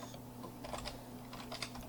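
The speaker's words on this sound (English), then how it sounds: "And you can now type the URL in the address bar." Soft, quick keystrokes on a computer keyboard as a web address is typed into a browser bar, faint and close over a low steady hum.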